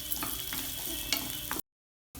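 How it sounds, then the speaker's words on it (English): Onions and slit green chillies sautéing in a pan with radish, a steady sizzle with soft stirring scrapes, close and moderately loud, cutting off abruptly into silence. "Saute them together."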